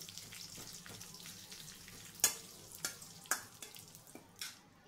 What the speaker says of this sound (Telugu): ఇలా వేయడం వలన ఎండుమిర్చి కూడా బాగా వేగుతుంది.